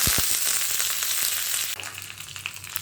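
Mustard seeds and urad dal frying in hot oil in a pan, a bright, loud crackling sizzle with a few sharp pops at the start, settling into a steadier hiss.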